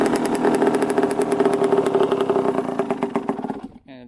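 A Suzuki RM 125 two-stroke dirt bike idles close by, a steady, slightly uneven burble that holds for several seconds and then cuts out abruptly near the end.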